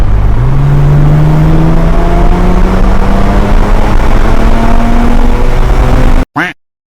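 A Porsche Macan GTS engine runs loud and steady with its optional sport exhaust, the note slowly rising in pitch as revs climb, then cutting off abruptly near the end.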